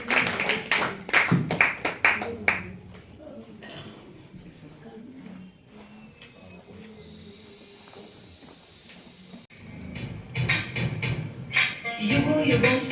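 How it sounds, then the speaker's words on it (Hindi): An audience claps for a woman's dance performance on women's power, with sharp claps at the start and again toward the end, while a voice talks over a quieter stretch in between. "सभी तालियों के द्वारा अभिनंदन करेंगे हर्षिता बहन का।"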